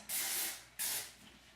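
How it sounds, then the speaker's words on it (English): Two short, close bursts of hairspray hiss from an aerosol can onto styled hair, each about half a second long with a brief pause between them, loud and alone. "So then we're going to spray the hair, especially on top, to hold that"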